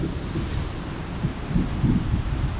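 Strong wind roars and buffets a microphone in a continuous rumbling wash, with gusts swelling louder toward the end.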